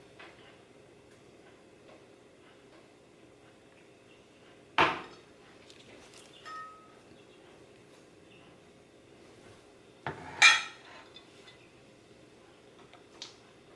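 A spoon stirs pieces of bug-repellent melt-and-pour soap in a container, giving a few sparse, sharp clinks and scrapes spread across a quiet stretch.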